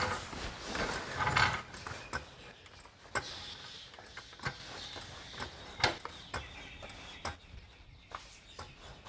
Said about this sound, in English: start undoing the bolts one at a time.